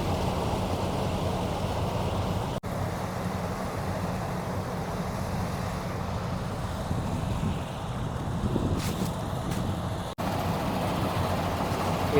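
A harvester cutting a green gram field drones steadily and loudly at close range, a continuous broadband mechanical roar with wind buffeting the microphone.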